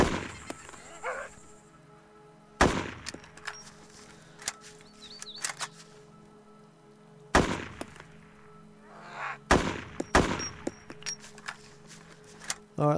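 AKM rifle fire in DayZ, a few sharp, loud single shots spaced several seconds apart over a quiet game backdrop with faint ambient noise between them.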